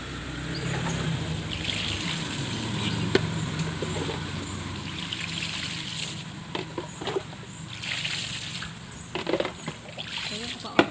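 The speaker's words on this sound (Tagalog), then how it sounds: "So, kabidiligan natin yan. So, babasain ko lang ng mabuti para yun." Water splashes and trickles over vegetable plants being watered in hot weather, soft and close, with intermittent splatters while a person talks.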